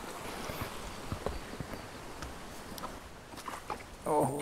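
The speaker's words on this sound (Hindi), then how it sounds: "बहुत ही होशियार घोड़ा है।" A horse walks a rough mountain trail in Baisaran Valley near Pahalgam, Kashmir, with faint, irregular hoof clops on stony ground under nearby voices.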